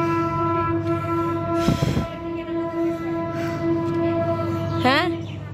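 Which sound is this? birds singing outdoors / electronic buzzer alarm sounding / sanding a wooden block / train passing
train passing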